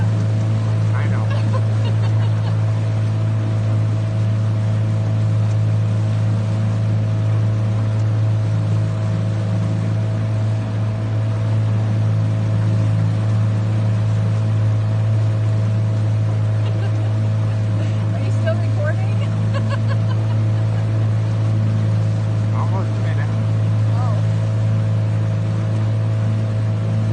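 A 12-foot fishing boat's motor runs steadily on the water in Utah, a loud, constant low drone with a sustained hum throughout, along with faint splashes and wind.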